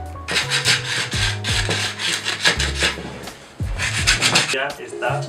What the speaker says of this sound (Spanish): Le vamos dando por los cantos, incluso si no le damos muy fuerte, quitamos la pintura dorada